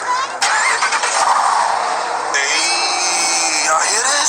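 A 2021 Dodge Durango SRT Hellcat engine revs and roars up close, a loud sustained growl that shifts pitch midway, with voices talking over it.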